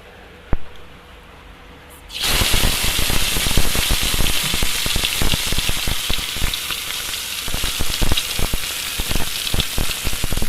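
Hilsa fish hitting hot oil in a clay pan bursts into loud, dense sizzling and spattering after a couple of seconds of quiet, then keeps crackling steadily and close up to the end.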